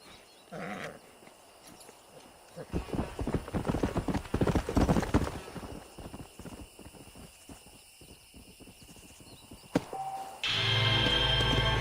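A horse's hooves clip-clop in a steady, rhythmic gallop in the Red Dead video game, building to a loud stretch mid-clip before fading. A sudden loud burst of noise follows at the end.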